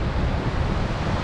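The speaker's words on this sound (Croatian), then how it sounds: "Vjetar puše." Wind gusts over the large beach at Ulcinj, Montenegro, a dense, steady roar of broadband noise buffeting the microphone, with surf likely mixed in, filling the whole short stretch without speech.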